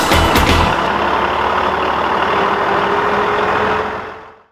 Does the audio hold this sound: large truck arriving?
yes